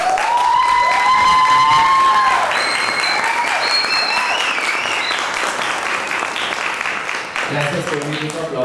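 An audience applauds after a storyteller finishes a tale at a storytelling contest. The clapping is loud, dense and sustained, with scattered voices and a few cheers mixed in before it thins toward the end.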